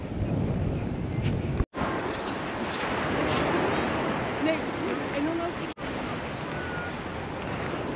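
Strong wind sweeps across a beach at Hoek van Holland, a constant loud roar buffeting the microphone with surf faintly underneath and two brief dropouts.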